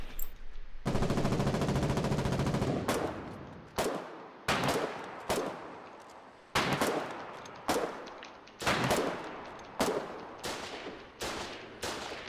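Several 120mm artillery guns fire in Foxhole, first a sustained loud burst, then a string of about a dozen sharp, booming reports at irregular intervals, each decaying quickly into quiet.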